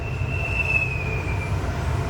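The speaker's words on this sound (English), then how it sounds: "there goes a Norfolk Western eastbound intermodal train going down the big hill from the summit of the Alleghenies" A Norfolk Western eastbound intermodal freight train rolls downhill from the Allegheny summit near Cresson, Pennsylvania, a steady low rumble of wheels with a thin, sustained wheel squeal running through it, heard continuously at moderate distance.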